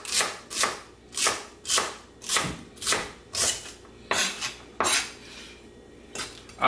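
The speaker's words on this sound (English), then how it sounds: "Give it a chop like so." Sharp, evenly spaced knife chops through Swiss chard stems on a cutting board, about a dozen crisp strikes in a steady rhythm, close and clear with no talking.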